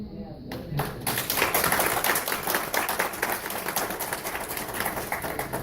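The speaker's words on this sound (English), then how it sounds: "I'd like to ask you to refrain from applause and clapping" People at a city council meeting clap and applaud, a dense, close burst of many hands that holds steady for several seconds after a brief quieter start.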